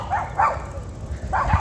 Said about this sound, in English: These dogs are about to fight.